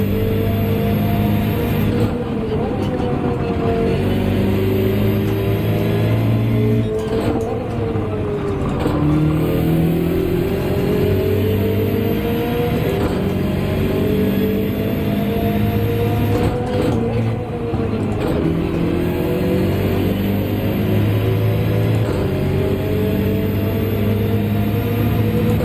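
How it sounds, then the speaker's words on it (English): A Subaru BRZ engine in Gran Turismo 7 drones loudly and without a break, rising through the revs and dropping with each gear change, all the way through. "The BRZ is such a loud car. It's so loud. You can just hear it from miles away."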